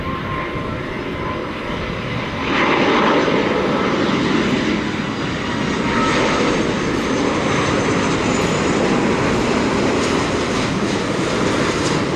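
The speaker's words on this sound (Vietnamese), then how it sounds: "mời mọi người chiêm ngưỡng pha hạ cánh của chiếc Airbus A330-300 với hình dán Coca-Cola này nha" Vietjet Air Airbus A330-300 in Coca-Cola livery landing at Tan Son Nhat airport, a loud sustained roar of jet engines that swells slightly and holds steady throughout, no talking.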